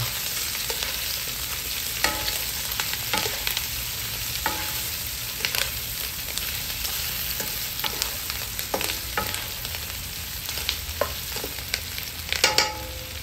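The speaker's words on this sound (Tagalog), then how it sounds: "Saka yung ating sibuyas, 1 malaking sibuyas. Mix na natin." Pork frying with garlic and a large chopped onion in a pan for Kapampangan-style pork bistek, a continuous close sizzle with repeated scraping stir strokes and no voices.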